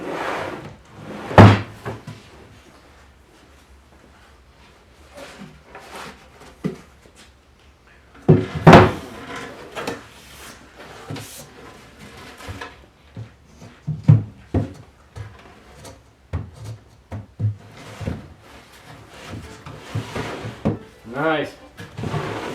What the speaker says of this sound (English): I'm going to test that bottom drawer.